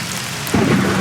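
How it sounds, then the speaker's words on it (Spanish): Heavy rain pours with a low rumble of thunder swelling partway through, loud and continuous, with no voices. "Sigue lloviendo."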